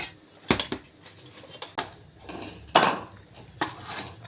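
Garlic and onion being chopped in a home kitchen, a knife striking a board in irregular sharp knocks with faint clatter between them.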